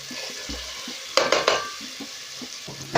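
Garlic and ginger paste fries in a pot for one-pot rice, a soft steady sizzle broken by a few sharp stirring scrapes and utensil clatters near the middle.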